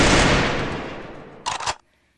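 A short burst of rapid gunfire from a mobile shooter game rings out loud and close, decays into a fading tail, then a brief second volley cracks before cutting to silence.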